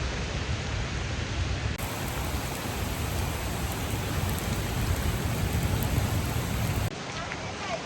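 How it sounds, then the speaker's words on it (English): Steady heavy rain on the Kalalau Trail, Kauai, Hawaii hisses loudly and continuously, a dense wash of noise with no letup. "It's really raining."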